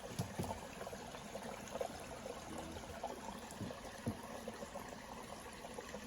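Creek water trickling out from beneath rocks beside a trail road on an Appalachian Trail hike, a faint, steady, low gurgling wash with no voices.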